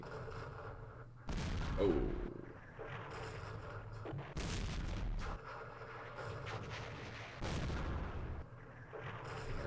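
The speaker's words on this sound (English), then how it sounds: "Artillery. French artillery." French artillery fire in Campaign Series Vietnam, a series of heavy booming blasts arriving in repeated bursts of rumbling thunder, fairly loud, with a brief exclamation by a voice early on.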